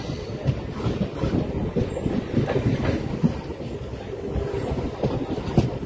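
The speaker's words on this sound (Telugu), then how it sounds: "మన ట్రైన్ అయితే మంగళగిరి నుండి అయితే బయలుదేరిపోయింది" A MEMU commuter train pulls out of Mangalagiri station on the Vijayawada–Guntur line, with a steady close rumble and rhythmic wheel clatter continuing throughout.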